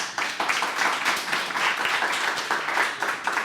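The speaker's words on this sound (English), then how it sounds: "So you guys deserve a huge round of applause." Audience applause at the close of a women entrepreneur panel, a dense steady wash of many hands clapping that fills the whole stretch at moderate level, with no talk over it.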